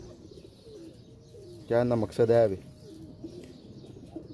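Breeder flying pigeons give two loud, close coos in quick succession midway through, while someone talks quietly before and after.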